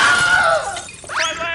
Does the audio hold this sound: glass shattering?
yes